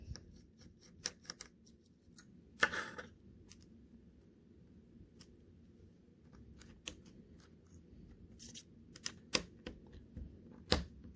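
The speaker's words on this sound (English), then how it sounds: "Now we're going to remove these hinge screws" Small screws being removed from the hinges of a Dell Inspiron 13 laptop during a screen lid replacement, heard as quiet, close clicks and light metallic ticks scattered irregularly, with a brief scraping rustle early on.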